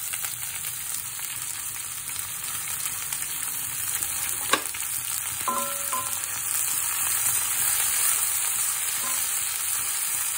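Ginger, garlic and onion fry in mustard oil in a pan, a constant bright sizzle that grows slightly louder, broken by a sharp utensil tap and brief stirring clinks; no talking.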